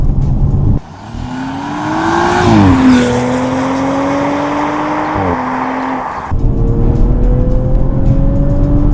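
An Audi RS5 engine revs up and accelerates hard, pitch climbing through a gear change, then drops and climbs again; loud and close.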